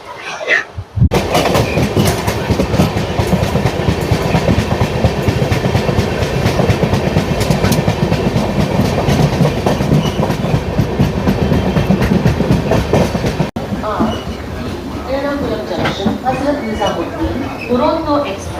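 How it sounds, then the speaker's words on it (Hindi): Duranto Express from Ernakulam Junction crossing the Ahmedabad–Bandra Terminus Lok Shakti Express, loud rattling clickety-clack of passing coaches close by, then the noise drops as the train clears and a voice talks over the quieter rumble. "Train number 22928 Ahmedabad junction Bandra terminus लोक शक्ति एक्सप्रेस के साथ में क्रॉसिंग।"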